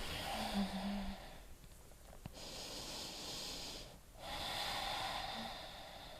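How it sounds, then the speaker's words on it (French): Deep, steady breathing during a vinyasa yoga flow, with long hissing inhales and exhales that rise and fall in slow cycles and leave short quiet gaps between breaths, close to the mic and moderately soft. "Encore une respiration ici."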